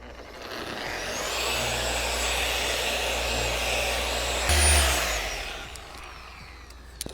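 A machine polisher works polish into the paint of a 1990s Porsche 993: a steady, loud whir that holds for several seconds, swells briefly, then winds down and stops.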